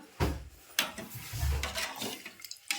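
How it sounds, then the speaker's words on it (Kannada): Water is poured into a hot pan of fried green chilies in several close, splashy bursts with short gaps, ending in faint drips and trickles. "ಈಗ ಇದಕ್ಕೆ ನಾನು ನೀರು ಹಾಕೊಳತ್ತೀನಿ ನೋಡ್ರಿ"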